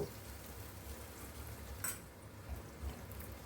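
Chopped onions fry in oil as they are stirred, giving a faint, steady sizzle with soft scraping from the stirring and an occasional light clink.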